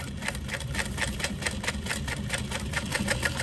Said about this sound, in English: So we're just gonna sew down that seam. Quilters would call this stitching in the ditch.